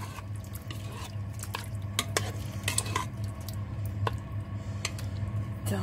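Goulash is stirred in a pot after liquid is added, with a soft steady simmering hiss underneath and irregular scraping knocks of the spoon against the pot, close and fairly quiet, with no talking.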